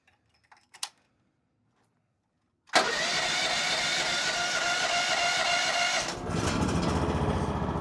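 A brand-new Chinese mini excavator's engine cranks and fires after a few faint clicks, then settles into a steady, loud, close mid-pitched idle with a slight dip in tone near the end.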